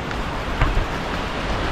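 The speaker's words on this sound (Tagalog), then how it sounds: "Rinig ko na yung agos ng tubig." Steady broadband rush of flowing water at Lintungan Falls, heard from some distance along the approach trail and continuing evenly with no voices.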